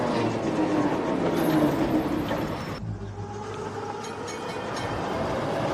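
A train in a film scene rumbles past with a continuous rolling roar. The sound cuts partway through to a quieter rail rumble that builds slightly toward the end.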